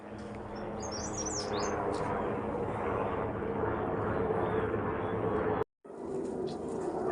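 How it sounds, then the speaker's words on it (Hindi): A helicopter passes overhead outdoors with a steady, broad engine and rotor drone. Birds chirp and twitter faintly above it, and the sound drops out briefly near the end. "ये वो जा रहा है हेलीकॉप्टर"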